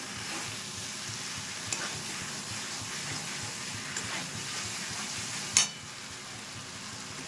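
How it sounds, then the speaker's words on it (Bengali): Cauliflower tossed into hot spiced oil for Kashmiri-style dum, frying with a steady close sizzle and soft stirring scrapes, and a single sharper clank of the utensil toward the end. "এবার ফুলকপিটা দিয়ে দিচ্ছি ভালো করে একটু মিশিয়ে নিচ্ছি"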